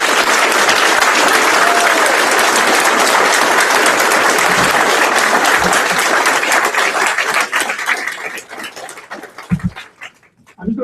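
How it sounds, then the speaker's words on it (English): Crowd at a mayoral debate in Prince George applauding the candidates, loud dense clapping that runs for about eight seconds before fading into scattered claps and brief thumps. "a round of applause for our candidates"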